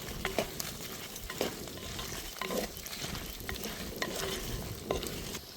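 Dried red chillies fry in a pan for a drumstick leaf thuvaiyal, giving a soft continuous sizzle broken by occasional spatula scrapes and stirs.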